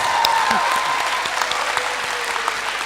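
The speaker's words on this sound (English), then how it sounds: "Let's give them a round of applause" A graduation ceremony crowd at QSI Shenzhen breaks into a round of dense, steady applause that fills the whole stretch at even loudness, with a faint voice briefly audible underneath.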